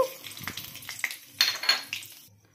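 Cumin seeds, dried red chillies and bay leaf tempering in hot oil for a green pea ghugni, sizzling and spattering in crackling bursts with clinks of a pan, close and loud.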